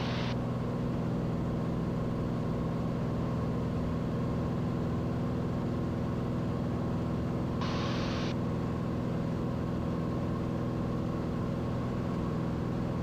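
Cirrus SR22 Turbo G6 single-engine airplane with a 315 horsepower turbocharged engine climbing out after takeoff on a hot day, a steady loud cabin drone of engine and propeller throughout with no speech.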